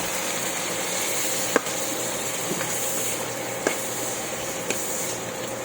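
Chopped onion and tomato frying in a pan for a monggo dish produce a continuous close sizzle, broken now and then by faint taps of a spatula, with no voices present.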